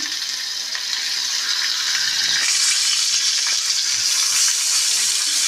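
Fish fries in a pan for Bengali macher jhol, a steady dense sizzle and crackle that stays loud and close throughout with no talk.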